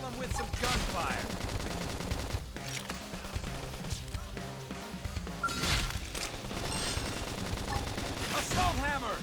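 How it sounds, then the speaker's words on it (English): Rapid gunfire bursts and impacts from battle combat in the video game Xenoblade Chronicles X, loud and continuous under a busy score with shouted voice lines throughout. "Now, topple them with some gunfire."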